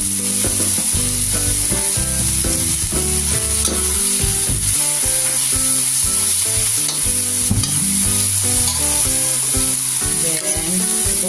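Tomatoes and egg sizzling loudly in a hot pan with spring onion being added, with continuous frying hiss over repeated stirring scrapes and clatter close by.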